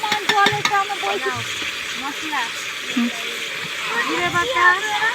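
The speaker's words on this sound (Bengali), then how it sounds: "ভালো করে চিকেনগুলোকে ভালো করে ভেজে নেব" Chicken pieces fry in a pan at an outdoor picnic cookout, a constant sizzle and spatter running beneath people talking throughout.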